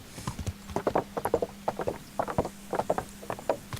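Horse hooves clip-clopping in an even, rhythmic walking pattern in the medieval game Kingdom Come: Deliverance, close and moderately loud with a faint steady hum beneath.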